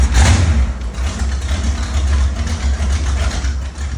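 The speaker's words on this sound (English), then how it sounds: "So engine's finished. It runs." A Chevy engine in a budget ski boat runs steadily after a rebuild, a loud close low rumble with a faint uneven lope, heard alone without talk.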